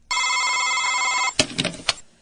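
A telephone rings before an answering machine picks up, one long steady electronic ring burst followed by a few short clicks and knocks as the line engages.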